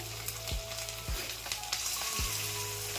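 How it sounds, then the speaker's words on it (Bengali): Food frying in hot oil in a pan, a steady close crackling sizzle with a few soft thumps and clinks from the pan, a faint background hum, no speech. "এগুলো ভেজে নিই"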